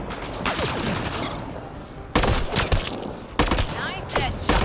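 Gunfire rings out in a Mass Effect: Andromeda firefight. Dense, sustained bursts of weapon fire come in overlapping waves, with louder volleys breaking out partway through over constant battle noise.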